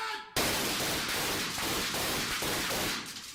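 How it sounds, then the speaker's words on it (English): A hail of blank gunfire in a Friday the 13th film scene, rapid dense shots firing in a continuous rattling burst after a short quiet lead-in, loud and harsh throughout. "Look at Kane Hodder standing in front of this hail of gunfire."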